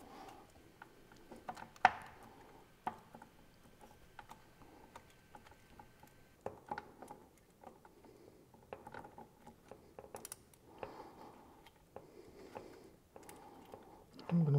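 A Harley-Davidson Iron Sportster gearcase cover rattles as it is shaken to free the last bolt, giving scattered light metallic clicks and knocks at close range with quiet gaps between them.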